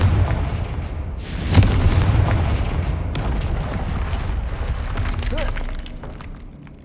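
A Confringo fire spell goes off in Hogwarts Legacy with a loud, booming blast that rolls into a long rumbling tail, followed by fainter crackles and scattered impacts.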